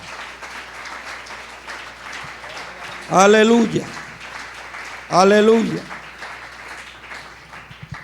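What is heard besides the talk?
congregation applause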